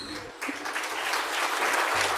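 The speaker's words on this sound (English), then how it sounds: "One more time, big round of applause there for Cindy Newman-Pirimali." Audience applause at the All First Nations Awards 2025, a dense burst of clapping from a large crowd that swells and holds steady.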